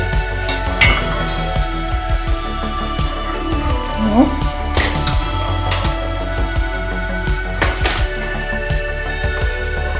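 Tal bora palm fritters are lifted from hot frying oil with a metal utensil, producing repeated light clinks and taps against the pan over a steady sizzling hiss, with a voice talking throughout.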